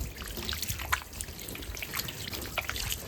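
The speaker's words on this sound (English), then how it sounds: "Rinse off the surface." Water trickles and splashes over the surface of a lithography stone during graining, a steady close rinsing flow with small drips and splatters.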